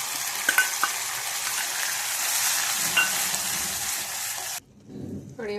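Dal sizzling in hot oil as it is stirred into fried masala, a dense close frying hiss with a few spoon clinks against the pan, cutting off abruptly near the end.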